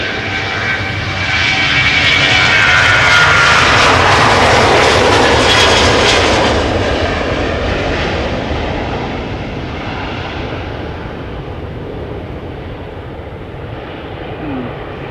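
A KLM Boeing 737-900 jet airliner roars past at Amsterdam Schiphol Airport, with a broad engine rumble that builds, peaks and then slowly fades into the distance.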